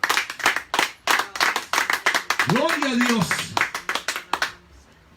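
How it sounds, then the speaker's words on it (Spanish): Rhythmic hand clapping from a church congregation during a Spanish-language worship service, steady beats under a voice calling out praise, with a sung or drawn-out vocal line rising briefly in the middle. "Denle un aplauso"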